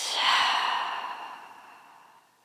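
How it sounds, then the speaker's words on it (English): A slow, soft exhale of breath during a yoga session, a single close, breathy release that fades away over about two seconds. "let's take one more breath in and let it out"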